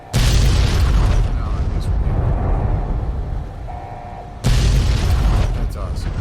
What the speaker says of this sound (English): The explosion's wonderful.